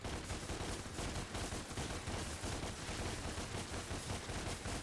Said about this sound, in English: Enjoy your gunfire.